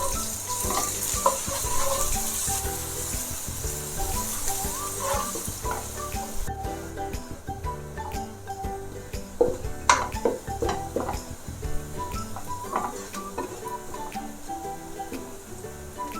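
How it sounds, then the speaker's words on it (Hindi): Ginger garlic paste sizzling and frying in a pan for an egg korma, with steady crackle, occasional stirring and utensil clinks against the pan throughout, no voices. "इसको हम 1-2 मिनट के लिए अच्छे से भुनाई कर लेंगे।"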